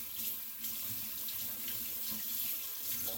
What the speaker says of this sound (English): I'm just going to rinse this bottle off